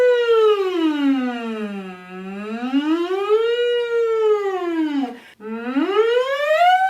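A voice imitates a siren by buzzing through a straw as a vocal warm-up, sliding smoothly up and down in long wailing glides with a brief break near the end. It sounds close, steady and loud, with no other voices.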